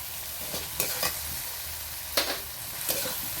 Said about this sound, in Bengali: দিয়ে আমি মশলাটাকে ভালো করে কষে নিচ্ছি।